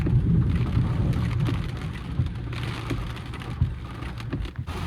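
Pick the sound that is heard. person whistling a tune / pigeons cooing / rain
rain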